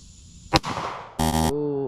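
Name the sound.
pistol gunshot at target practice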